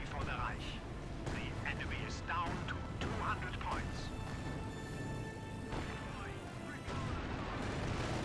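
Mattress rocket barrage in Company of Heroes 2, a dense run of overlapping rocket blasts and crashing explosions over battle noise, loud and continuous with a game caster's voice running beneath.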